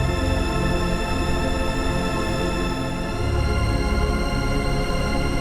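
A dense, sustained granular synth texture from a Sonicware Liven Texture Lab swells with layered harmonic drones and a shifting low rumble, loud and continuous.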